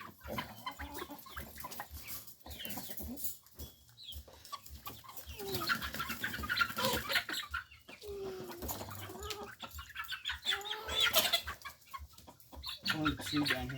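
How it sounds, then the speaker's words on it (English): Chickens cluck and mutter close by in a large farm pen, with a rooster among the flock, making a busy, uneven stream of calls and squawks, while a person speaks briefly at times. "That's a rooster."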